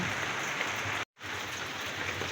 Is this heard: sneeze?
no